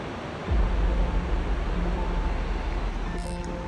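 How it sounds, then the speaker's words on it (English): A waterfall on the Eagle Creek trail gives a steady, full rushing roar. It swells in just after the start and holds at an even level to the end, with no voices over it. "It's another waterfall."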